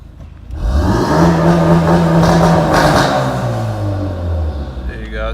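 A 2017 Ford Focus RS engine held at a set rpm by launch control, a loud, close, sustained rev with a rising then steady buzzing tone that slowly eases off.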